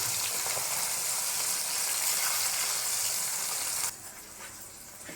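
Steady, loud sizzling of tatkini fish frying in oil in a pan, a continuous hiss that drops to a quieter bubbling near the end, with no talking.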